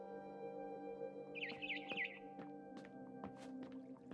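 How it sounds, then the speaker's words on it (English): In the game What Remains of Edith Finch, a barn swallow outside a window gives a few quick, thin chirps and trills over a faint, steady tonal hum, fairly quiet and somewhat distant. "Then I heard chirping outside my window."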